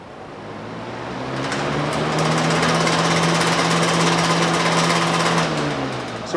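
A noisy fan wobbling on its blades at low speed, giving a steady loud mechanical drone with a rattling, hopping throb that swells slightly midway, running alone without talk.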